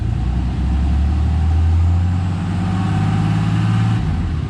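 A used Cummins diesel truck engine runs loud and close, a steady low rumble that swells as it is revved toward about 2,000 RPM and then eases back down near the end.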